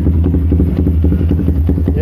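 A Yamaha New Vixion Advance motorcycle with a BRT Juken 5 dualband ECU, single injector and Proliner exhaust runs at idle, giving a close, loud, steady rapid thumping pulse with mechanical clatter throughout.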